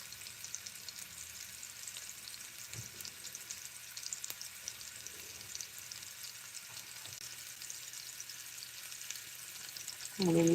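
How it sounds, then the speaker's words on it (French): Meatballs fry in a pan with a steady, fine crackling sizzle that stays even throughout, close and moderate, with a brief louder burst at the very end. "on fait cuire les boulettes"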